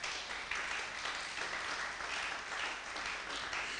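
A church congregation breaks into sustained applause during a French-language sermon, steady dense clapping that fills the room at an even level without a break.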